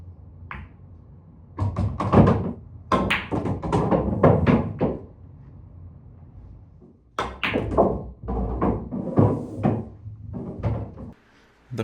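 Pool balls clack together during a break-and-run on a pool table, with quick clusters of sharp knocks in two bursts separated by a short quiet gap, close and fairly loud.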